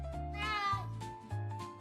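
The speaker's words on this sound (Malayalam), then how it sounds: "പണ്ട് ഒരു ഗ്രാമത്തിൽ വളരെ മടിയനായ ഒരു പൂച്ച താമസിച്ചിരുന്നു." A cartoon cat meows in a children's moral story, a lazy village cat, with a rising and falling harmonic cry over a low music bed, heard clearly and up close.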